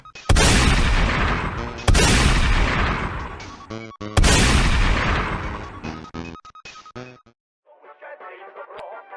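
Heavy booming gunfire in a video game in quick bursts, several loud blasts with ringing tails, ending in a short muffled crackle.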